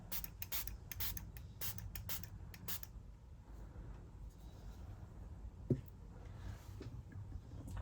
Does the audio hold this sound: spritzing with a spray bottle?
yes